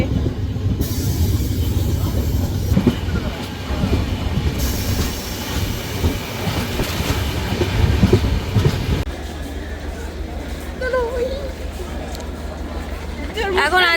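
A passenger train running from Kolkata toward Siliguri rumbles along the rails with steady clattering and wheel noise, loud and close from inside the carriage, while people talk over it.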